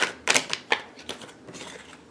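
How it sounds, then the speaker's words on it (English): Tarot cards being shuffled by hand in a quiet room: a quick run of crisp riffling and slapping bursts, close and fairly soft, with uneven pauses between the shuffles. "I don't want to spend too much time shuffling"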